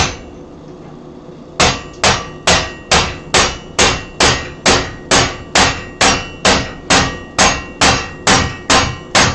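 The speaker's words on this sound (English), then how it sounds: "I'm going to try to drive this chisel in." A hammer repeatedly strikes a chisel being driven into metal clamped tight in a vise, about fifteen sharp ringing metallic blows at a steady rhythm after a quiet start.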